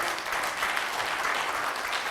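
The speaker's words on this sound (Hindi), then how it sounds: "एक बार मेरे लिए तालियां।" At an event, an audience delivers a continuous burst of applause, many hands clapping together in an even, moderately loud wash with no speech over it.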